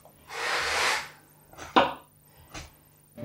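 A knife trims the pastry edge of an egg and bacon pie, giving a soft scraping rustle followed by a few short cutting taps against the dish, close and quiet with no talking.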